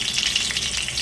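Curry leaves crackle and sizzle hard in hot oil with mustard seeds and cumin. The sputtering is loud, dense and close throughout the brief moment, with no voices.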